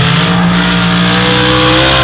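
A modified drag car from Nebraska launches down the strip at a mod-class event in Paducah, its engine roaring loud and steady with strong low harmonics throughout, close and dominant, no voices.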